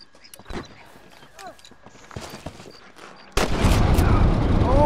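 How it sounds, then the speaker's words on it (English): Gunfire in the Western video game Red Dead Redemption: scattered distant shots and clatter under a player's talk, then a sudden loud sustained burst of shooting near the end. "Oh, I'm getting shot from every angle."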